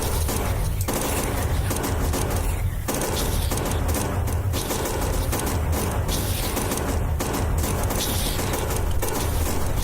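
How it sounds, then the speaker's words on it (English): Gun turrets in Factorio firing on an enemy base, a steady stream of soft, overlapping gunshots and thuds that continues without a break, fairly distant and even in loudness. "Okay, I'm firing on this base here."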